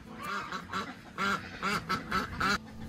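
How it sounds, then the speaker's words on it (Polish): Old Polish ducks in magpie-pied on fawn coloring quack in a rapid series of about eight loud, nasal calls, close by and without voices. "A przed Wami kaczki staropolskie barwy srokatej na podkładzie sarnim."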